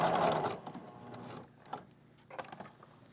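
A sewing machine runs through a quilt-as-you-go block while it quilts wavy stripes, with a loud whirring burst at the start and then shorter, softer stitching runs separated by pauses as the fabric is turned.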